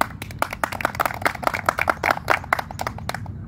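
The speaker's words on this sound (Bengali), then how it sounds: "তার জন্য করতালি" Audience clapping for the organizer of a balloon-popping contest between two friends, a brisk spread of handclaps lasting a few seconds, moderately close with no talk over it.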